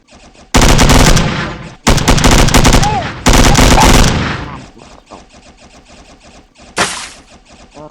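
Rapid bursts of gunfire shooting at glasses in a video game, loud and close, in three dense volleys followed by quieter scattered shots and a final short burst.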